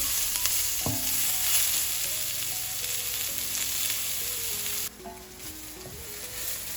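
Onions fry in a pan with a steady hiss and sizzle, stirred so that scraping clinks and knocks sound over the frying, close by with no voices.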